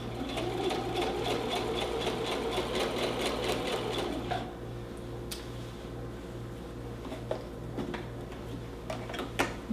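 A sewing machine stitching an elastic waistband, running steadily at close range for about four seconds, then slowing to a quieter, lighter run with a few clicks as it reverses for a back stitch.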